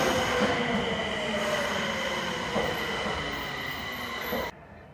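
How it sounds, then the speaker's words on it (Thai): A Nagoya subway train rumbles and hums loudly into a station, wheels squealing faintly over the steady roar before the noise abruptly drops. "A train is arriving at platform."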